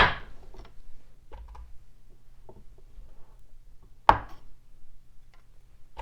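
A block of melt and pour soap is cut into evenly sized chunks: soft, scattered taps and scrapes at close range, with one sharper, louder cut partway through and quiet gaps between the strokes.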